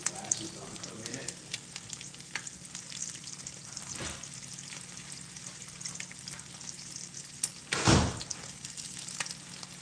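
Eggs frying in a pan with a steady low sizzle and crackle, a few sharper pops and a louder burst of sizzling near the end, close by with no talk.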